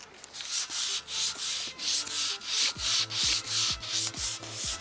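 Hand sanding paint off a Gilera SMT motorcycle part, a rhythmic series of loud abrasive strokes, roughly two per second, close up and steady with no talking.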